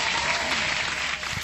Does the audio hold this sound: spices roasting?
no